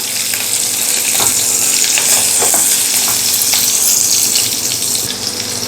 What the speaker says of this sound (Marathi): हिरवी मिरची अगोदर थोडीशी परतून घेऊया